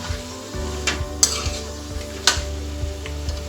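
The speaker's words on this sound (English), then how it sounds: "We're just gonna fry this." Goat meat frying in a pot for yakhni pulao, a steady close sizzle with a few sharp stirring scrapes and clinks of a utensil against the pot, no talking.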